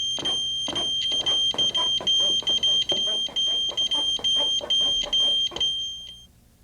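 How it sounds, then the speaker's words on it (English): A shrill electronic alarm from an ESD ground monitor sounds continuously, pulsing in rapid beeps for several seconds before cutting off abruptly. "You'll hear the monitor alarm"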